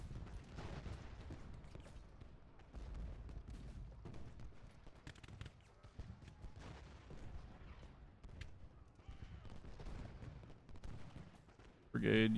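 Continuous artillery fire and musket volleys from a Gettysburg Civil War battle in Ultimate General, distant booms and crackling gunfire rolling throughout, with someone talking over the battle.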